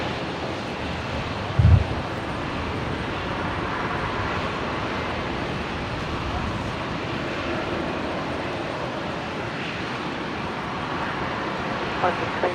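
A QantasLink airliner from Canberra arrives on runway 19 left at Brisbane, its engine noise a steady, fairly distant rumble and rush, with a short thump early on and speech heard beneath it.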